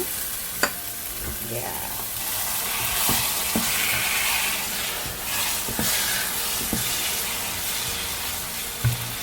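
Prawn stock poured into a hot pan of biryani masala, with steady sizzling and frying hiss throughout, a few sharp clinks of a utensil against the pan, and a brief word spoken.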